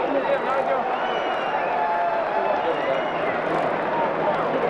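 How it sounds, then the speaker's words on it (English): A big crowd cheers and roots for rookie Nigel Mansell at the 1993 Indianapolis 500, a steady, dense roar of many voices that holds without a break for the whole stretch. "The big crowd rooting for the rookie."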